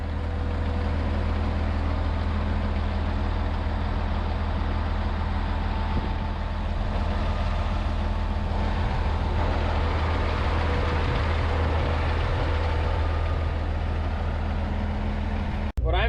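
A truck's engine idles in a steady, unbroken low rumble with a constant hum, close and loud, lasting throughout with no speech, ending in a sharp brief knock.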